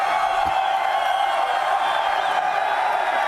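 A dense crowd cheers and roars continuously at the XO18 show, a loud, steady wall of whooping and applause with no break across the few seconds.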